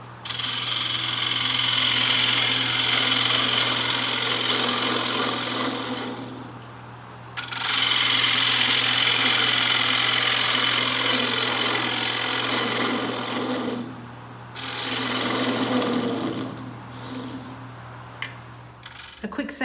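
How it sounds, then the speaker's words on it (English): The bottom of a turned cedar container is being sanded, giving a loud rasping scratch in sustained bursts broken by two short pauses, over a steady low hum from the machine. "a quick sanding of the bottom to get it nice and smooth"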